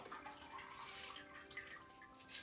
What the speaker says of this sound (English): we're going to take that vermouth coated glass and we're going to pour.